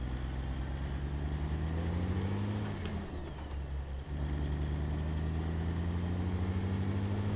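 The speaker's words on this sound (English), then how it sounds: "I just like the way that the turbo spools up during the Jakes as well." A modded truck engine in a driving game rumbles deeply under a Jake brake, with a rising turbo whistle that spools up, drops away briefly, then climbs again, steady and fairly quiet.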